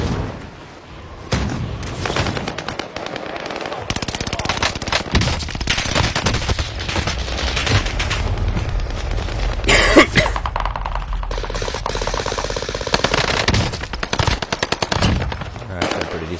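Rapid machine-gun fire from a shooter video game, with sustained automatic bursts and booming shots layered densely throughout, loud and close.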